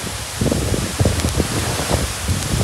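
A heavily pouring waterfall at the Agaya Gangai falls in the Kolli Hills makes a loud, close, unbroken roar of rushing water with gusty surges.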